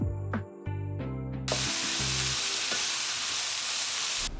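Chopped beans and carrots hit a pan over high flame for chicken fried rice, giving a loud, steady spray-like sizzle that surges about halfway through, preceded by a few brief clanks and tonal sounds.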